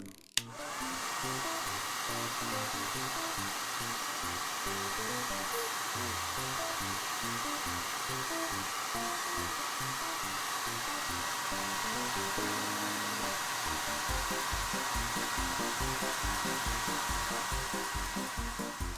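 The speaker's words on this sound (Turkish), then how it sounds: "şimdi de saç kurutma makinesiyle devam edelim." A hair dryer blows steadily for the whole stretch, a loud, constant airy whir with a motor hum underneath and no talking.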